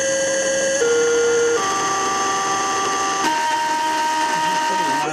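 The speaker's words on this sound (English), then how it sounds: "But that illustrates the structural resonance of the windings." A DC position servo motor driven with a sine wave input, its windings resonating in a loud, steady electronic whine that jumps between pitches in distinct steps, with a harsh buzzing edge, close by.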